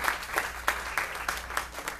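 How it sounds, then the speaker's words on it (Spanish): A church congregation applauds during a sermon, a steady wash of clapping with distinct sharp hand claps standing out at a fairly regular pace, moderately loud and with no talking over it. "Denle el aplauso a Cristo."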